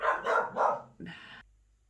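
A dog barks three times in quick succession close by, followed by a shorter yelping bark, with quiet indoor room tone afterward.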